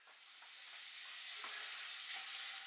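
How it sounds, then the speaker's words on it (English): Onions sizzle in a couple of tablespoons of olive oil in a saucepan, a steady close hiss that builds slightly, with a few soft stirring scrapes and no talking. "just fry the onions in a couple of tablespoons of olive oil, and you just fry them down until they're translucent"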